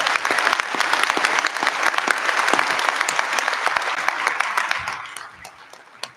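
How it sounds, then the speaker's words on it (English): A room full of people at a school board meeting claps in a dense burst of applause that fades out after about five seconds, with a few stray claps trailing. "Go ahead and give them applause for that."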